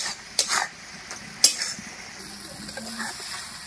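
A coconut and jaggery filling with crushed cardamom is stirred in a pan, with two sharp scraping strokes early on over a soft, continuous sizzle that fades to quieter stirring.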